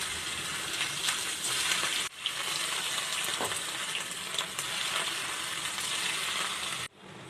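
Corn pakora frying in hot oil in a wok, a loud, continuous crackling sizzle that holds steady, with a few brief dips where the sound momentarily drops.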